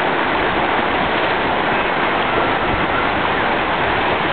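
River rapids churning as a cyclist attempts to ride through them, a dense, steady roar of rushing water filling the scene without any voices.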